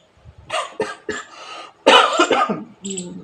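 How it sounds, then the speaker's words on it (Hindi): A string of harsh, close coughs: a few separate hacks, then a heavier, rougher cluster with some throat clearing. "खांसी बहुत जोर आ रही है"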